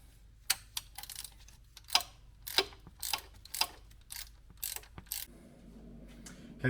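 Close, sharp metallic ratcheting clicks in an irregular rhythm while an auxiliary belt tensioner is refitted on an Alfa Romeo Twin Spark engine, with tool handling and light clanks between strokes.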